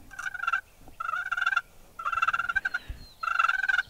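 A wild turkey gobbles repeatedly in four distinct bursts, rhythmic rattling calls outdoors during spring hunting, moderately loud and fairly close, with no talking over them.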